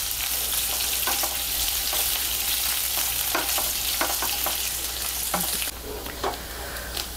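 Onion sautés in oil until it turns reddish, with a dense, steady sizzle close up. A spatula scrapes and taps the pan repeatedly, and the frying softens slightly toward the end.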